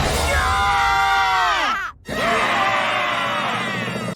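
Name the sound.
Gravity Falls finale intro, characters screaming at each other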